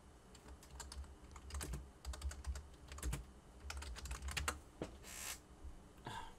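Fingers tapping numbers into a calculator, quick clusters of light plastic key clicks, close and quiet with short pauses between bursts.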